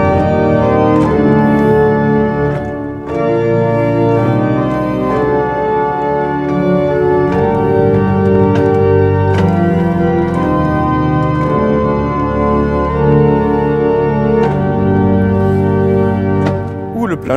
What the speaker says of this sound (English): A 16/8/4 organ depth sounds like this.